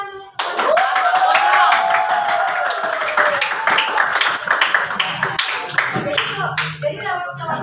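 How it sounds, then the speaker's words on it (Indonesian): A class of students in a school lesson on Jambi culture claps together, loud and close, with brisk uneven claps and a high drawn-out call at the start and children's voices mixed in throughout. "Kasih tepuk tangan dulu."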